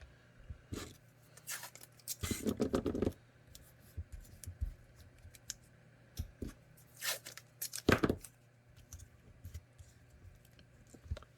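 Masking tape stripped off a Sig X5 TLR1 resin 3D printer platform outdoors in the cold, making loud ripping bursts around the third and eighth seconds, with fainter scattered handling noises between them and no talking.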